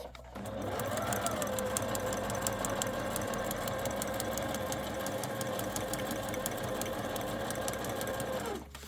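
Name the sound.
sewing machine stitching along drawn guide lines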